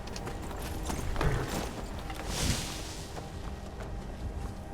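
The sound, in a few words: horse hooves clip-clopping in the video game Skyrim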